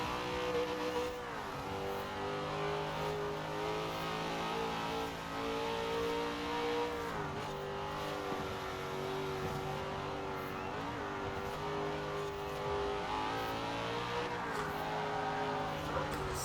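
A vintage American muscle car engine in Forza Horizon 4 drones steadily through a road race, its pitch rising and dipping with throttle and gear changes over a continuous, loud run.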